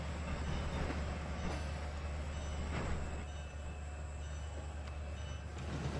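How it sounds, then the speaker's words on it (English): A train in Trainz 12 rolls around a bend with a steady, continuous rumble and a faint high whine, near and unbroken throughout, no voices. "That's quite a shot of the train coming around the bend there."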